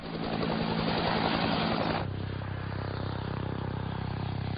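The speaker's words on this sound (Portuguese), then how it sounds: "A primeira coisa que sempre notamos num helicóptero é o som da esteira do rotor principal batendo na esteira do rotor de" A helicopter's main rotor wake slaps against the tail rotor wake in a steady, loud, rhythmic thudding drone, shifting abruptly to a lower, smoother engine hum partway through.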